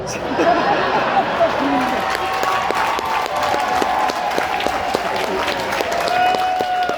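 A comedy club audience breaks into applause mixed with laughter and cheering, a full crowd clapping steadily at close range while someone speaks over it.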